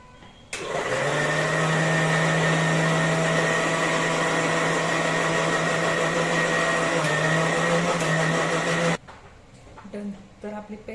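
A mixer grinder blends spinach into a paste with a little added water. Its loud, steady motor whine starts abruptly, runs for about eight seconds with a small pitch dip, then cuts off, leaving quiet kitchen sounds.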